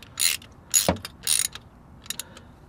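A ratchet tightens a 19mm bolt on a 1996 Toyota Camry pulley during water pump and timing belt work, giving a few close, crisp clicking bursts with short pauses between them.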